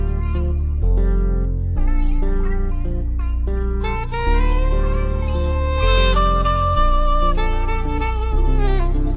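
A chopped, pitched-up melody sample plays in an FL Studio afrobeat beat, with bright choppy vocal-like phrases over heavy low bass hits, loud and dense with no talking.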